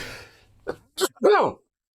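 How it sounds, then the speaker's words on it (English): A single sharp sneeze preceded by a quick gasping breath, close and loud, in an otherwise quiet room. "Hold on, I got to sneeze."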